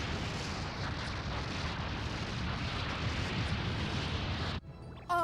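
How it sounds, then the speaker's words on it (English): Nuclear missiles detonate in a video game as a dense, continuous roaring rumble of explosions that holds loud for several seconds and then cuts off abruptly. "All nuclear missiles have been detonated, sir."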